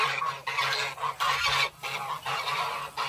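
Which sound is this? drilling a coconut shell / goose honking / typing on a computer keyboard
goose honking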